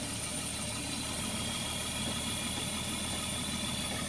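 A dump truck engine runs steadily while pulling a bucket loaded with palm fruit, giving a continuous, even rumble with no breaks and no voices.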